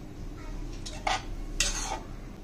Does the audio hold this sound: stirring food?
yes